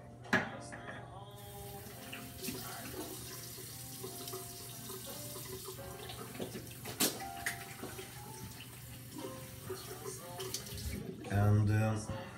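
Tap water runs steadily into a basin during a shave at a barbershop, a continuous splashing hiss heard close by beneath a voice and shop sounds.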